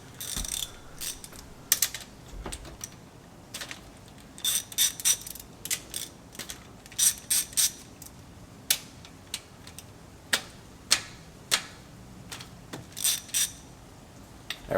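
Ratchet with an extension loosening the valve adjusters on a 1993 Honda Civic DX, heard as scattered short bursts of clicking with pauses between, close up and without talk.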